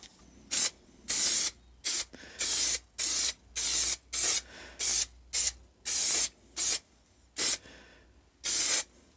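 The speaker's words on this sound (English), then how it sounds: "spray it on the base, and then stick this down, and then spray that" A spray can of adhesive hisses in about fourteen short, sharp bursts with brief pauses between them, used on a BSA motorcycle seat restoration. No voices are heard.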